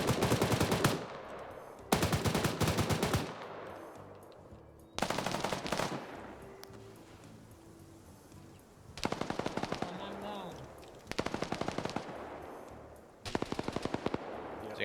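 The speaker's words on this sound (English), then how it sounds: "there's the BTR now shooting." A BTR armored vehicle's machine gun fires in a war video game, several loud bursts of rapid automatic fire separated by pauses and fading echoes, with quieter battle noise between.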